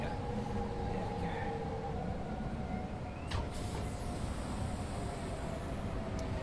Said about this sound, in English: I knew there was another train coming in.